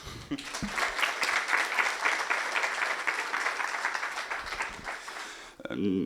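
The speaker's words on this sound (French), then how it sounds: "Vous pouvez également vous applaudir." Conference audience at the opening of a cloud technology event applauds itself, sustained crowd clapping for about five seconds at moderate level, then fading out into a short bit of talk at the end.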